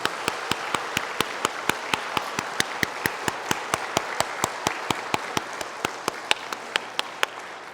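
A church congregation claps in steady unison to honor its elders, a regular rhythmic beat held at an even pace over a light bed of scattered clapping, with no talk.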